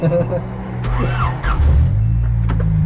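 Race car engine on a fresh build revving while stuck in gravel, a loud steady drone with rising and falling revs, alongside people talking nearby.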